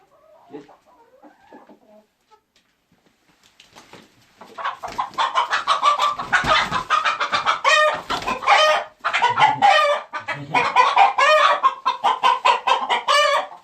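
A Trabzon Gugulu rooster clucks loudly and agitatedly in rapid, insistent bursts, close by, after a few seconds of quieter, scattered sounds.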